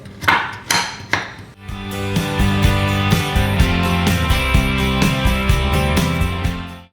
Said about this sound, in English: My brown sugar can be a little clumpy sometimes, so using a fork helps break that up as well.